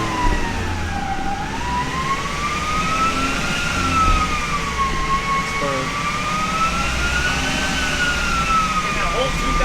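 A 2007 base Saturn Sky on a dyno revs steadily in fourth gear, its engine tone rising and falling in a continuous drone that stays loud and close, with voices faintly underneath.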